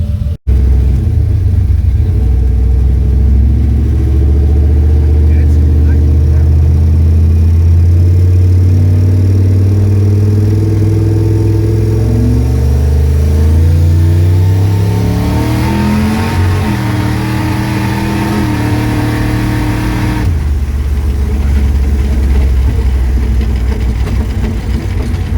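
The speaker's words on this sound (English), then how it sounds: "do another little pull with the throttle, see what it does" A turbocharged Ford Mustang engine sits at a loud, close idle, then rises sharply in pitch on a throttle pull before dropping back to a lower rumble, with no voices over it.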